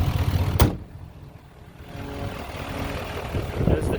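A Duramax diesel engine in a 2018 Chevrolet 2500 LTZ 4x4 pickup rumbles at idle, a steady low drone close by, broken near the start and end by sharp knocks as if a hood or door is handled.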